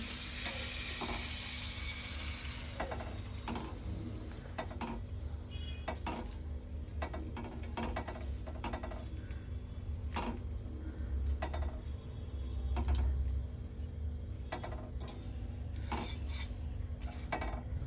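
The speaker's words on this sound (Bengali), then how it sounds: "চাটুতে মাখন দিয়ে পাউরুটিটা ভাজা হচ্ছে।" Bread fries in butter on a flat griddle, a soft steady sizzle under repeated clinks and scrapes of a metal spatula and utensils, fairly quiet and close with no voices.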